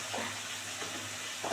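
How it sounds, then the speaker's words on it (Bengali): A blended spice paste for an egg and young jackfruit curry sizzles and crackles steadily in a hot pan, a close, even frying hiss with light stirring scrapes and no talk. "দিয়ে বাড়িটাকে খুব সুন্দর করে কষাবো"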